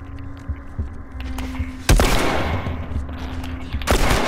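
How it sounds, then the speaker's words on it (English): Gunfire in The Last of Us, two sharp loud shots spaced about two seconds apart, each bursting across the spectrum over a low game soundscape with no talk. "these people come around, they're like, no, and they shoot us like, what the crap?"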